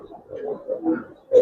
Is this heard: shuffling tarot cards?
no